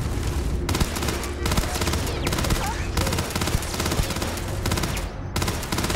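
A turret opens fire in the Starfield video game, loosing loud, rapid automatic bursts that come back again and again with brief gaps between them, a harsh close barrage lasting the whole stretch.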